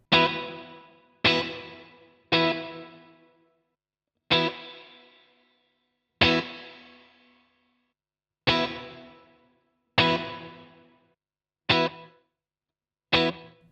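Single electric guitar chords played through a NUX NME-5 Trident multi-effects pedal ring out one after another, nine sharp strums in all, each decaying in a reverb tail, with silence between them.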